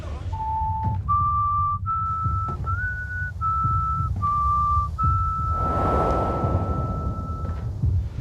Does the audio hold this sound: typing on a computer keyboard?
no